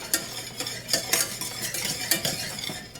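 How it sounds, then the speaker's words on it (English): A spoon stirring a pot of cooking grits, with repeated scraping strokes in an uneven rhythm over a faint bubbling simmer. "Give it a stir. Nowhere near done yet, actually."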